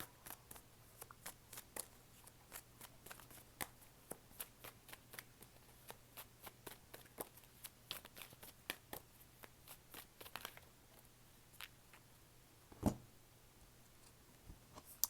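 Tarot cards being shuffled up close make a long run of quick, light riffling taps and snaps in an irregular rhythm, fairly faint over a low steady hum, with no speech.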